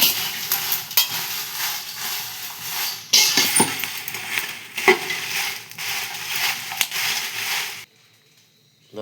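Coriander and chillies roast in a hot pan with a loud, continuous dry sizzle and rustle, broken by scraping stirs, before dropping to near silence at the end.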